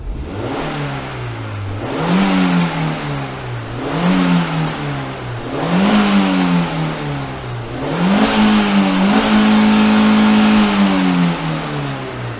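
A 20-year-old Vauxhall Zafira 1.6 16V engine revs repeatedly on a dyno, climbing and dropping in about five rising pulls before holding a steady high-rpm drone at the end. It is loud and close, with no talking.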